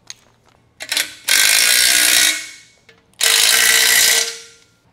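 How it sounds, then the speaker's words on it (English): Bolts on a Valor Fitness CB-29 glute and ham developer being tightened with a ratchet wrench, heard as two loud, close, continuous ratcheting bursts of about a second each, separated by a short pause and a few small clicks. "we'll go ahead and tighten everything down"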